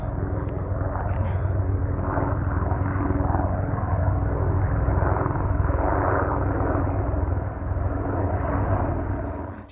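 Two Apache military helicopters pass overhead along a hiking trail, a steady loud rotor and engine drone holding for the whole stretch with no voices.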